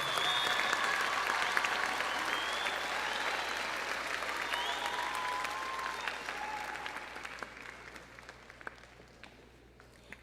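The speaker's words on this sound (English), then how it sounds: "let's give our graduates a round of applause" Graduation-ceremony audience at a high school applauding its graduates, a sustained wash of many hands clapping in a large hall that gradually thins out, with a few whoops and faint cheering voices mixed in.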